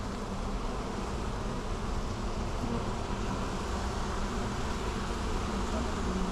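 A swarm of honeybees being moved from a bucket to a hive box, a steady, dense buzzing drone that fills the whole stretch without a break, close and even in level.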